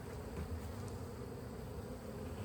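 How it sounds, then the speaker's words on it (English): Honeybees drone continuously from an open hive with a crowded brood box during an inspection, a dense close steady buzz with no talking. "This is a healthy amount of bees in here"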